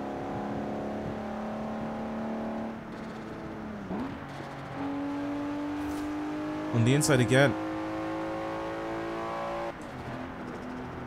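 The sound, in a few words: Nissan Skyline GT-R R34 engine accelerating, video game Forza Horizon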